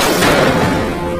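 A single loud, dense blast from a gun fired in an action film scene, filling the short moment with a broad burst of noise that cuts off sharply near the end.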